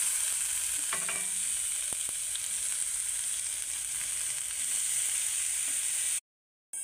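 Grated carrot frying in ghee for halwa, a loud continuous sizzle with a few soft spatula scrapes and taps as it is stirred, cutting out abruptly near the end.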